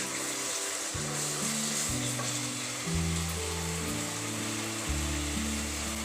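Chili powder sizzles in a hot pan as it is stirred into a Punjabi rajma masala, a steady close hiss under low tonal hum and scraping from mixing.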